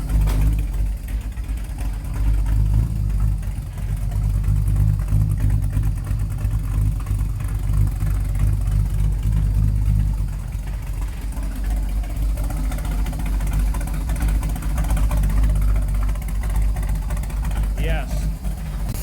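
A parked car's engine idles with a low, steady rumble, and someone talks over it for the whole stretch.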